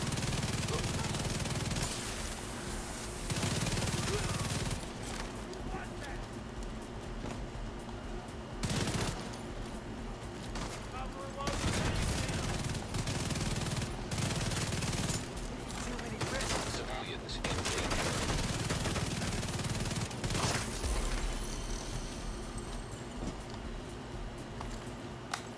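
Assault rifle fire in The Division 2 comes in repeated bursts of rapid shots across the clip, with pauses between volleys and a player talking over parts of the shooting.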